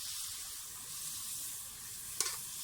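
A medium onion sizzles steadily in a hot pan as it fries toward dark brown, a constant close hiss with one short sharp crackle near the end.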